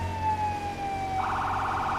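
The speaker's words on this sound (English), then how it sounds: "That was the ambulance." Ambulance siren in a firefighter simulator video game, a steady wail sliding down in pitch before switching to a rapid warbling yelp as the vehicle passes, fairly loud over a low engine rumble.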